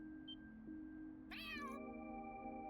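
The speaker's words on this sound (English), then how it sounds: "Kitties." A cat meows once in the video game Trails Through Daybreak 2, a bright rising-falling call over a steady humming game ambience with a faint tone, clear and fairly close.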